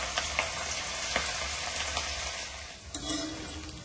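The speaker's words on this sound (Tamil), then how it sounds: "இப்ப வந்து எண்ணெயும் இங்க காய வச்சிருக்கேன், அழகா போட்டு பொரிச்சு எடுத்துக்கலாம் ஃப்ரெண்ட்ஸ்" Banana flower pieces deep-frying in hot oil for a vegetarian dish, giving a steady, dense sizzle close by with a few small crackling pops throughout and no talking.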